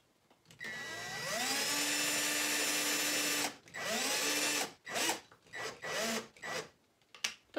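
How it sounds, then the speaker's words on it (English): A power drill whirs up and runs steadily, drilling into a door, then stops and restarts in several short bursts, close and loud, with pitch dips as it bites in. "how deeply I want to drill through the door"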